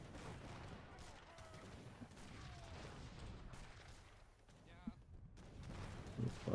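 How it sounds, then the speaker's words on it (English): Rockets launched in a village defense video game: a series of muffled blasts and gunfire pops under ongoing talk, with a sharper bang near the end. "I'm shooting the rockets from behind."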